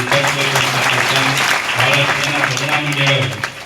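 Loud, dense clapping from a crowd of devotees at a village temple ceremony, continuous and close, with a voice speaking over it.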